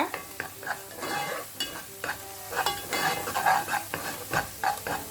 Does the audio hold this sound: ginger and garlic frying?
yes